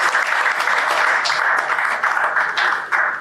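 Audience applause for a panel guest at a discussion on Nigerian labour force statistics, a dense, steady round of clapping from a crowd, fairly loud and sustained, easing slightly near the end.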